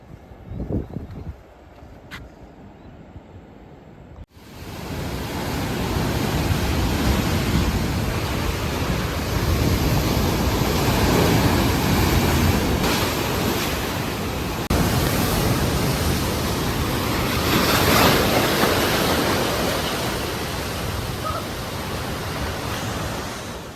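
Ocean surf at the Bogey Hole, a rock pool in Newcastle, Australia, gives a steady, loud broadband roar of breaking waves after a few quiet seconds of faint handling noise, with no speech.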